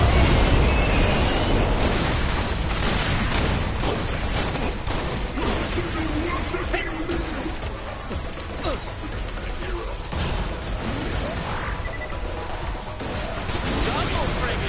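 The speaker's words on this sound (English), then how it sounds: "Moonshot reinforcements inbound! Moonshot cannon!" Dense barrage of cannon strikes and explosions from a moonshot bombardment in Borderlands The Pre-Sequel, a continuous roaring clatter of blasts and bursts with game voices calling out over the din.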